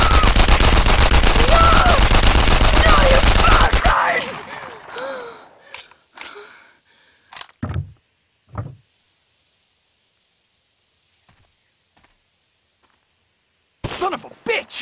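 A dense burst of rapid gunfire from a firing squad in the video game Enemy Front fills the first four seconds, loud and close, followed by scattered knocks and thuds, near silence, then a few more sharp hits.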